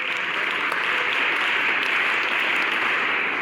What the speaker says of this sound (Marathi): मुलांना पुन्हा एकदा टाळ्या वाजवा.